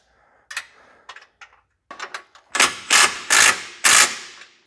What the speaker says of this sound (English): you want to torque that down to your factory torque spec